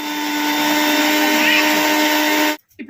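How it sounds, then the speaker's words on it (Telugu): A kitchen mixer grinder whirs steadily while grinding henna leaves, a loud, even motor drone with a high whine that cuts off abruptly near the end. "ఇప్పుడైతే మిక్సీ అయితే పెట్టేసాను."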